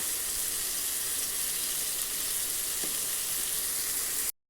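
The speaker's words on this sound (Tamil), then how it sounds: "தக்காளி ஓரளவுக்கு வதங்கி வந்துடுச்சு." Tomatoes sautéing in a pan for a thoothuvalai thuvaiyal, a loud, steady, close frying sizzle with a brief stir partway through, alone and without talk, cutting off abruptly at the end.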